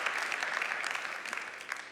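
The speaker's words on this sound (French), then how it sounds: "On peut les applaudir pour ce magnifique trophée" An audience at the Trophées Présences 2025 awards ceremony applauds the trophy winners, a steady, fairly soft patter of many hands clapping continuously throughout.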